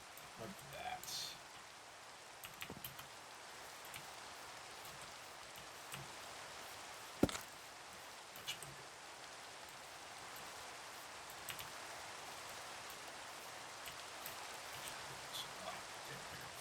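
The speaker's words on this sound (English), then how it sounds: "okay, finally stopped raining." Steady rain in the Minecraft video game, a soft continuous hiss of raindrops with faint scattered patters and clicks, low in level with no one talking.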